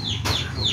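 Chicks cluck and cheep close by, a short bright chirp over a steady low background hum.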